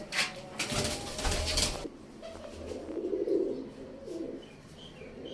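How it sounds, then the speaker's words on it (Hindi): Pigeons cooing nearby, soft low throaty calls, with rustling and a brief flutter early on, then a steadier murmur of cooing. "एक पट्ठी कबूतरी फड़ी है"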